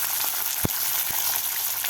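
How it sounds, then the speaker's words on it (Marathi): Fresh peas and finely chopped carrot frying in oil for sago upma, a loud continuous sizzle with a couple of sharp spoon knocks against the pan. "आपल्याला गाजर आणि मटार व्यवस्थित फ्राय करून घ्यायचे आहेत तेलामध्ये"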